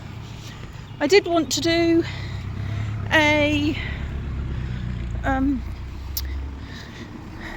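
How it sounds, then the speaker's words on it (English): Road traffic passes by outdoors in a steady low rumble throughout, under someone talking and walking in the rain. "sorry about the noisy traffic again."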